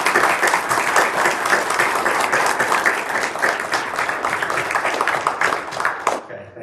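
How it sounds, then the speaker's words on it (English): Audience applause for high school students at a pitch competition, a dense, steady wash of many hands clapping at full strength for about six seconds before cutting off abruptly. "I'd like to give the students all a round of applause"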